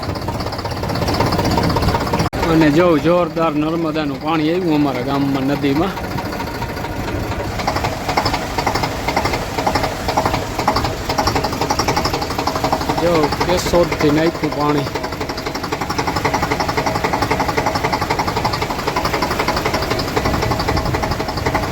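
A tractor towing a loader tied behind it on a road gives off a steady, close engine rumble that runs continuously beneath someone talking.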